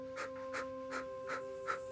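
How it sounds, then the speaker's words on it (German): A person exhaling in short, forceful bursts during a guided breathing exercise, five evenly spaced puffs close to the microphone over a faint steady background hum. "Und stoßweise ausatmen."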